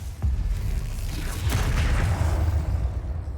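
The Confringo blasting spell in Hogwarts Legacy goes off with a deep, heavy boom and rumbling low-end impacts, followed by a whooshing burst, close and loud with no talk over it.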